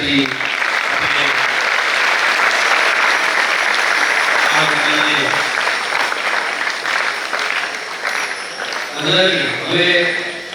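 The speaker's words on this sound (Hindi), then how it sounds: "जोरदार तालियों" Loud, sustained applause from an audience fills the hall at a school event honoring a swami in Bhuj, steady throughout with bursts of voices and cheers rising near the end.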